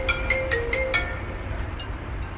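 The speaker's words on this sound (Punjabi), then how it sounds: "ਮੈਂ ਚਲੋ ਘੜੀ ਬੈਠਦਾ ਅਤੇ ਫੋਨ ਆ ਗਿਆ" A phone ringtone plays a quick run of five bright, evenly spaced electronic tones, then a faint sixth tone over steady low background noise.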